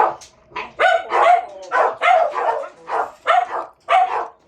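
Several dogs bark in a quick, uneven series of loud, close yaps and woofs, some overlapping, with brief gaps between them and no other sound.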